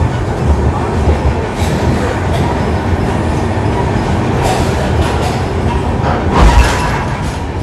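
A Chennai superfast sleeper train pulls into platform 6 at Chennai Central, a loud, steady rumble of wheels and carriages with brief clanks and squeals rising near the end, close by throughout.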